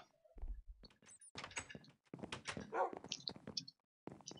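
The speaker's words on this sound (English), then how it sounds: "Dog." A dog gives a few brief barks and whimpery yelps between door-like knocks and thumps, fairly close and loud, with no one talking.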